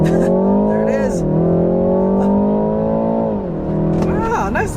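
A 2020 BMW 330i xDrive's B48 2-liter turbo four-cylinder accelerates hard in sport mode on a back road, heard from inside as a loud rising engine note with gear-change dips and a brief voice near the end.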